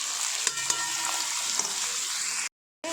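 Crushed potato pieces fry in a pan for sabudana khichdi with a soft, steady sizzle. A few faint clinks sound near the start, and a brief silent gap falls just before the end.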